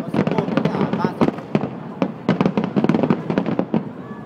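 Fireworks crackle and pop in rapid, irregular bursts, with many sharp reports stacking into a dense barrage while people talk over the noise.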